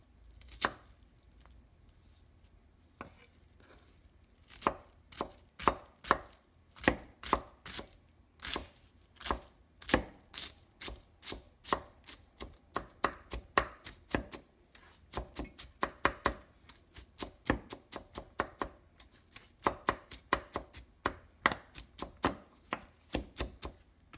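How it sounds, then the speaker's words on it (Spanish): An onion is chopped finely with a knife on a board for mango pico de gallo, the blade tapping close and crisp in sparse strokes that quicken into a rapid, steady run of chops. "Esto tiene que ir bien finamente también picado."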